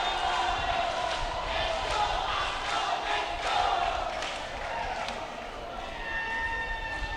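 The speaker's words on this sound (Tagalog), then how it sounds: "The crowd is loving that point." A crowd at an inter-town volleyball tournament game cheers and roars after a point, a loud sustained wash of voices and claps with a commentator talking over it.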